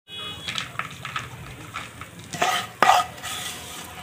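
Capsicum masala frying in a pan while being stirred, repeated scraping strokes over a steady sizzle, building to a couple of louder scrapes and clanks near the end, close up with no talking.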